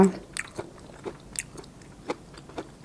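Wild Melientha (phak wan pa) fruit is chewed close to the mic, soft irregular bites and crunches spaced about every half second, quiet, with no talking.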